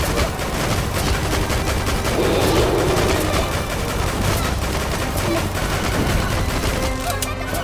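Heavy continuous gunshots in the zombie game Dead or School, dense overlapping shots mixed with action sounds, loud throughout.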